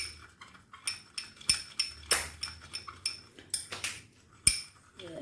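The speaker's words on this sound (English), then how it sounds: "let's just stir this mixture and keep it aside" A metal spoon stirs a honey and almond mixture in a bowl, giving a steady run of bright clinks and scrapes against the dish, close and fairly loud, with no talking.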